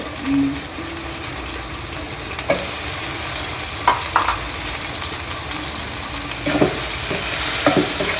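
Tomatoes go into a hot pan with turmeric for a Bengali tomato sour dish, frying with a continuous loud sizzle broken by scattered clinks and scrapes of stirring.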